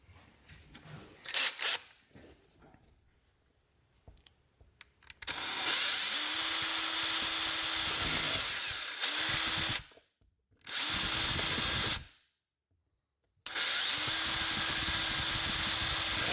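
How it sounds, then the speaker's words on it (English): A power drill bores into a foam rat-shaped fishing lure in several loud, steady whirring bursts of a few seconds each, separated by short silences, after quiet handling sounds at the start. "we can drill it out, put some weight in it"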